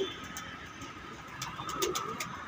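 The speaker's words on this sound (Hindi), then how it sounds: "ये बैठा भाई बाहर का कबूतर" A pigeon sitting outdoors gives a faint, low cooing that is soft and somewhat distant, over quiet background noise.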